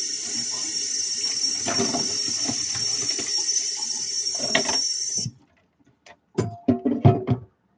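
Water runs steadily from a kitchen tap over pasta in a sink, a continuous close rushing that stops abruptly, followed by a few brief clatters and knocks.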